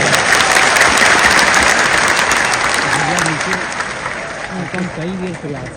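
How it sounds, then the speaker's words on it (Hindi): A crowd in the Bapu Sabhagar auditorium in Patna claps loudly and continuously at a political gathering. Voices rise faintly within the applause in the second half as the clapping begins to thin. "ताली जोर से बजाना, जोर से ताली बजाना।"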